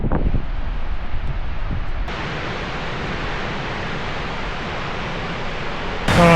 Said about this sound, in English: That's a bit windy. I don't know how this audio is going to be